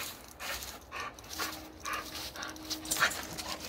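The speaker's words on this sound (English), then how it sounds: "Good dog, there you go." A dog whimpers and yips in short bursts close by, with soft barks and whines repeating irregularly, no one talking.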